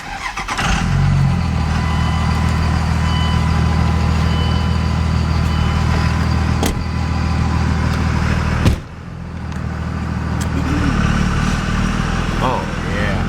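A Willys Jeep with a cracked engine block runs close and loud with a steady, rough engine drone, broken by a single sharp clunk before the idle carries on.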